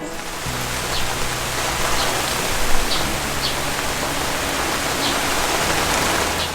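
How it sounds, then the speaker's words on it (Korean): Steady rainfall over a large countryside house garden during the rainy season, a dense, even hiss of drops close by with occasional louder splashes, continuing unbroken with no voices. "지금 2주, 2주째 비가 계속 오나 봐. 올해는 정말 비도 많이 오는"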